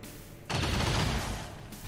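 Heavy gunfire in XCOM 2 breaks out suddenly as a dense, loud burst of rattling shots and booms that lasts just over a second and then eases off, close and heard alone.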